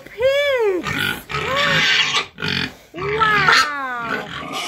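Several pigs, including a boar, squeal and grunt up close on a farm in loud bursts, high whining cries broken by short gaps.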